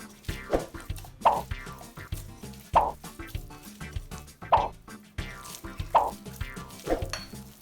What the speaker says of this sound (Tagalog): I-fold natin ito hanggang sa mag-absorb na ang oil sa dough.